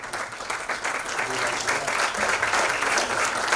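A hall audience at a state nursing and paramedical institutes award ceremony applauds to welcome the deputy chief minister, with dense, sustained clapping that swells slightly and holds steady, heard alone without talk.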